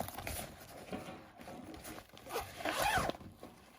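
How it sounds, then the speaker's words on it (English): A zipper on a GoPro Sling crossbody bag is pulled open in a few short scratchy strokes, close up, with a longer louder run near the end. "there's another internal zipper here"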